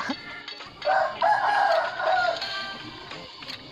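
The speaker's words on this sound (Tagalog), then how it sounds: "Nakikisabay ang mga manok" A rooster crows once in a long, drawn-out call at moderate distance, with faint background noise before and after.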